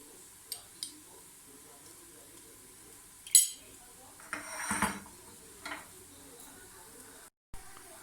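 Biryani ingredients stirred with a spoon in a pot: a few scattered metallic clinks and scrapes with a brief rustling stir in the middle, fairly quiet against a low background.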